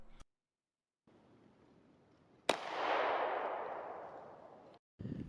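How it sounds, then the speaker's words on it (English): A single sharp 9mm pistol shot from a CZ-P09 firing 124 grain full metal jacket at body armor, a loud crack followed by a decaying wash of noise that fades over a couple of seconds, with another sharp click before and after. "we got the CZ-P09 chambered in 9mm"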